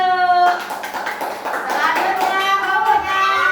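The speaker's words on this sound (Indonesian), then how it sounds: "Ayo, tepuk tangan dulu." Children clapping hands in a classroom, a loose scattered patter of many small claps, with a voice talking over it.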